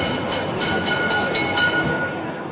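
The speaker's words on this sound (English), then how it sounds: "at Rome's main train and bus station" Train at Rome's main train and bus station, a steady loud rolling rumble of rail cars with faint rhythmic clatter, heard alone without talk.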